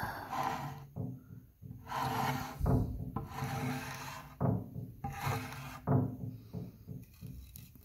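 Paint scraped off a wooden mid-century Lane Acclaim snack table gives repeated rasping strokes, each a close, gritty rub on wood. The strokes come in an uneven rhythm with short pauses between them.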